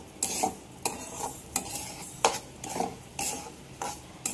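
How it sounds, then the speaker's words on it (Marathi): Broken wheat for jaggery lapsi is roasted in a pan with a spoon stirred and scraped in regular strokes, about one every half second. A soft dry sizzle runs beneath the strokes. "ह्याला चांगलं आपल्याला असं भाजून घ्यायचं आहे, असं खरपूस भाजून घ्यायचं आहे"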